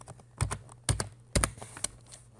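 Keyboard typing while an HTML script tag is written, heard as three or four loud clustered key-press bursts spaced about half a second apart, close-up and with no voices.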